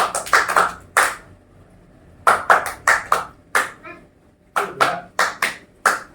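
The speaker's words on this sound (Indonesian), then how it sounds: "Tepuk 5-nya kayak gini nih." Sharp group hand claps in a counseling group session, struck in quick bursts of five with short pauses between sets, close and distinct, with faint voices between rounds.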